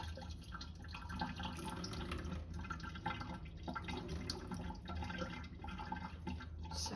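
Water poured off softened gelatin while making a yuzu tofu cheesecake, a steady close trickle and splash with some dripping, running continuously with no talking.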